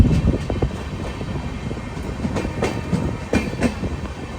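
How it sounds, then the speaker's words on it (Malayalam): A Jhelum Express sleeper-class train from Jammu Tawi rolling through the yard toward Pune Junction, heard from inside the coach as steady rumbling with irregular clickety-clack rail knocks and rattles. "പൂനെയിലേക്ക് ഇതാ ട്രെയിൻ എത്തിക്കൊണ്ടിരിക്കുകയാണ്"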